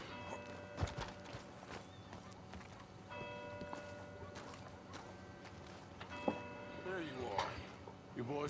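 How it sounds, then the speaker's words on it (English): Horse hooves clip-clop in a video game, with rhythmic clopping, a brief whinny and faint bell tones under layered game sounds and speech. "Why can't I ride my horse in the park?"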